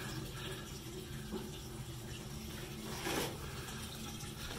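Water trickles and splashes faintly from a drain spigot on a steam heating system, a quiet, continuous flow with a brief swell near the end.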